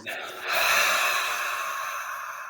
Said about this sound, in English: So I'm breathing out there.